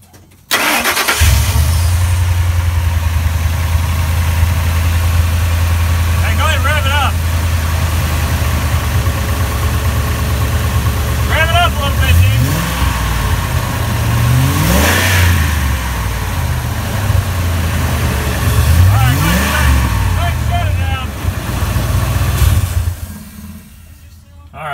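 A Ford 5.4L V8 engine, with newly replaced exhaust gaskets and no exhaust leaks, turns over and starts, then idles loudly with a steady low rumble, punctuated by a few revs; people talk briefly over it.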